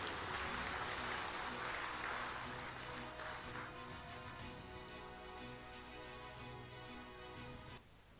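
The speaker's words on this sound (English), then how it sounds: "May we have a round of applause to all the recipients" Audience applause at a BCAS Campus convocation ceremony for the class of 2025, a steady, dense wash of clapping from a large crowd that holds for several seconds, then tapers and cuts off near the end.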